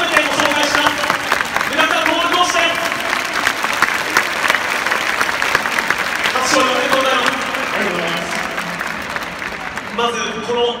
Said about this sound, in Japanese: まずこの大拍手です。